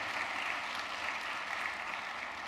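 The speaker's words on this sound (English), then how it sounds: "give a round of applause for Mr." Audience applause for an honoree at a college honors induction and recognition ceremony, a steady wash of many hands clapping, fairly distant and even throughout, with no talk over it.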